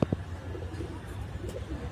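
Madrasi pigeons kept for sale give a couple of soft, low coos at the start, followed by quieter murmuring and faint background noise nearby.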